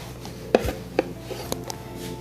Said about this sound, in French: On va les couper en moitié.